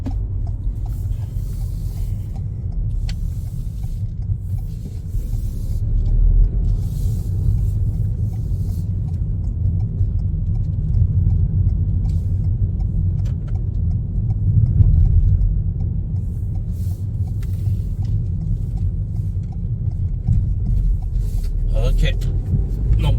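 Inside a manual-transmission car on a highway, a steady low engine and road rumble swells and eases as it slows, while a person talks throughout.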